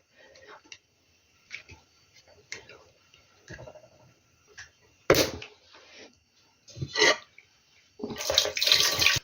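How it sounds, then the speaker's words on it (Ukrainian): Brine from a jar of salted tomatoes is poured into a cooking pot in a home kitchen, heard as a few short splashing gushes between quiet clicks and handling sounds. "І тепер візьму кришечку таку і буду зливати в каструлю."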